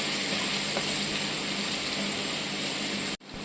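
Ginger, garlic and mild green chilli paste sautéing in hot oil with asafoetida in a pan, a steady loud close sizzle that runs without a break and cuts off abruptly near the end.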